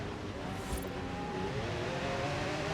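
Rear-wheel-drive supercar engine revving in Forza Horizon 5, a steady, fairly loud engine drone with rising tonal pitch lines, accompanied by brief tire-like hiss, with no talking.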